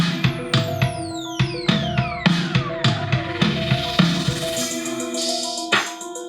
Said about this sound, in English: So far we got the arpeggio and the drums.